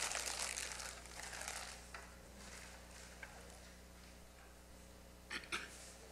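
Paper being crumpled and crinkled at a synagogue installation ceremony, rustling loudest at first and then softer under a faint room hum, with a couple of brief crackles near the end.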